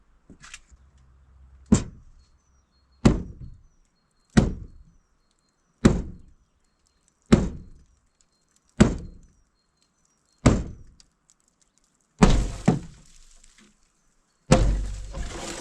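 Repeated heavy thuds from forcing a locked door in an abandoned house, about nine sharp impacts at steady intervals of roughly one and a half seconds, loud and close, with the last blows rattling and splintering longer.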